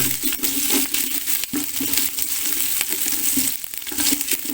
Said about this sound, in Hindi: लहसुन अदरक का पेस्ट जो है वो ऐड करेंगे और इसको थोड़ा सा भून लेंगे